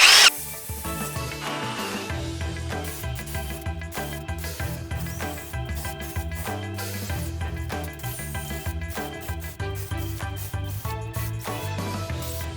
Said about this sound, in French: Perçage des cornières tout autour pour visser le plateau par en dessous.